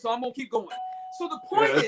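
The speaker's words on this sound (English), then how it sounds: "That's the doorbell." Two-tone doorbell chime ringing once, a clear sustained tone that rises between bursts of indoor speech and fades under the talking that resumes.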